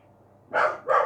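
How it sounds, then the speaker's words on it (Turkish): A dog barks twice in quick succession, close and fairly loud, each bark short and sharp against a quiet indoor background, with no talking. "Köpek sus."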